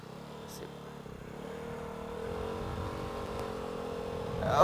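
A motorcycle fitted with a Shijiro Standard Racing exhaust, its engine note rising steadily as it revs and accelerates, a mid-pitched whirring growl growing louder toward the end.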